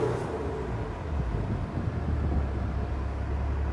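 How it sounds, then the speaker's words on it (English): Low, steady rumble of a turbocharged race car engine and exhaust in a race shop, a continuous throbbing drone heard without talk. "The turbos sound good. It's got a great exhaust note to it."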